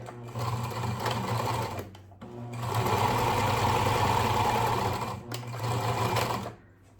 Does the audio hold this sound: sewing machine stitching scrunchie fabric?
yes